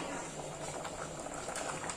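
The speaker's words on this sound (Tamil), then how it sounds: "நல்லா கொதிக்குது." Tomato rice biryani boils in a pot with a soft, continuous bubbling and simmering that stays quiet and close.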